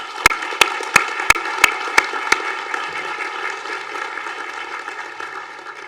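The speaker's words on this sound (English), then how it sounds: "join me in a round of applause for the graduates of the UB Singapore Institute of Management" Audience applause for graduates at the University at Buffalo Singapore Institute of Management commencement, a loud sustained crowd clapping in a large hall, with seven sharp evenly spaced beats standing out early before the applause carries on alone.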